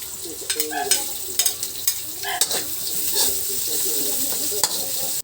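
Garlic frying in hot oil until brown, then onion added, for pancit canton. A constant close sizzle carries under repeated spatula stirs and scrapes against the pan, with no talk.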